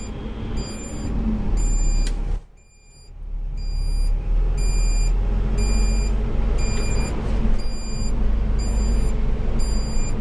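Steady electronic reversing beeps from an excavator repeat in an even rhythm over a loud machine engine rumble, with a short dip in noise partway through.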